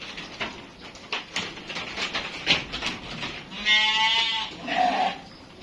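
Texel and Suffolk sheep in a pen bleat a couple of times, a loud wavering call and then a shorter one, over shuffling and low barn noise.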